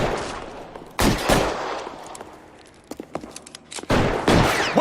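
Video-game gunfire from L.A. Noire: a loud burst of rapid shots, then a quieter stretch with a few scattered pops, then another close, loud burst of firing.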